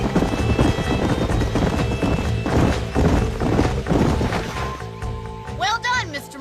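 Horses' hooves clop and thud in an irregular trotting rhythm on a ranch in the video game Red Dead Redemption, with a short whinny near the end, under game music and voices.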